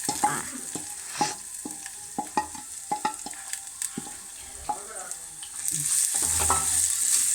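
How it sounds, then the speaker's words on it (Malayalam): Beetroot pachadi with chopped green chilli being stirred in a pan, a series of scraping spoon strokes against the pan over a steady low sizzle that swells louder near the end. "അത് നല്ലോണം ഇളക്കി കൊടുക്കാം"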